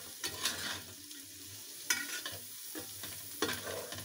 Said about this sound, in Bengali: আর দিয়ে দিচ্ছি টমেটো, দিয়ে ভালোভাবে ভেজে নিব